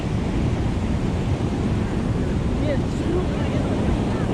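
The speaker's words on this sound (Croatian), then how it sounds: "Ovo te ubije kad padne na tebe ovaj val." Heavy ocean waves break on Nha Trang beach in Vietnam, a constant loud roar of surf with wind buffeting the microphone throughout.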